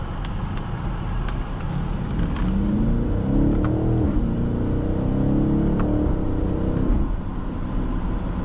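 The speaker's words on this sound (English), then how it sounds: "Such harsh gear shifts." A 2020 BMW X7 M50i accelerates hard from inside the cabin, its engine drone climbing steadily and broken by a couple of harsh gear shifts over a constant road rumble.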